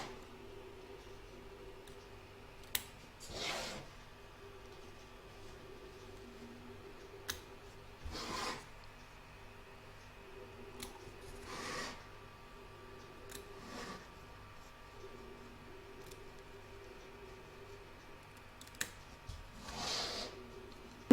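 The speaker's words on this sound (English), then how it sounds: "I can now cut away this fabric from the centre." Scissors snip away fabric inside an embroidery hoop, a series of separate crisp cuts spaced several seconds apart over a quiet background, with faint clicks between them.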